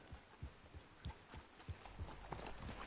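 Horse hooves clop in a PS4 video game, a rhythmic, soft thudding gait that repeats steadily and sits low and muffled in the mix.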